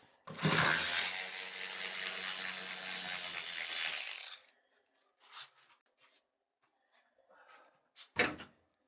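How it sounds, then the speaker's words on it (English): A ratchet fitted with a 10 mm socket backs bolts out during teardown of a crash-damaged 2023 GMC Sierra, giving a loud, sustained buzzing whir for about four seconds, followed by a few faint clicks and handling noises and one short sharp clack. "These were a 10 millimeter socket."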